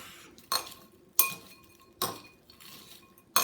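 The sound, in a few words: mixing Cheetos and cheese in a bowl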